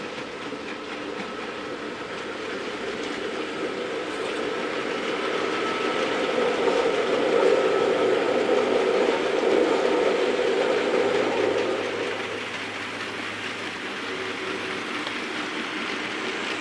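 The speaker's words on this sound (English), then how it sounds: "Loco numbers D8507 at the time allocated to King Mur. Late on, that's why it's in BR blue livery." Diesel locomotive D8507 in BR blue livery passes through at a distance, a steady rumble swelling to its loudest in the middle and then easing away, with a low engine drone lingering near the end.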